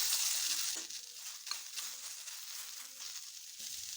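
Chopped small tomato hitting hot oil in a pan for a vegetarian banana-flower kofta curry, a steady broadband sizzle with a burst near the start, then a softer hiss with faint stirring touches.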